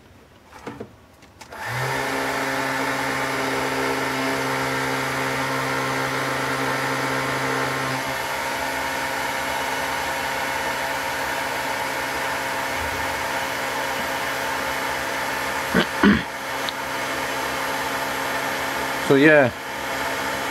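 A 12V car fan heater switched to its heat setting gives a steady motor whir and airflow hum that starts about two seconds in and runs on, with brief talk and small handling bumps near the end.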